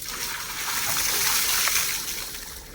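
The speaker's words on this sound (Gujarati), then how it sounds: "ભાઈ આને મારે ઠંડુ પાણી નાખી દીધું." A glass of cold water is poured over a person's head in winter, giving a short close gush and splatter that swells and fades over a few seconds.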